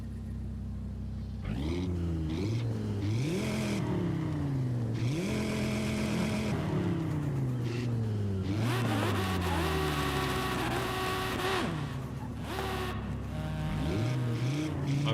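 Ford Transit van engine in the Forza 5 racing game, revving hard through repeated gear shifts with rising and falling whine, loud and continuous throughout with no talk.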